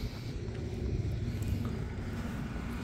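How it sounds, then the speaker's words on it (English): An airplane passes high overhead above the clouds, heard as a faint, steady low rumble with a soft airy hiss and no talking. "I think it's a plane flying over."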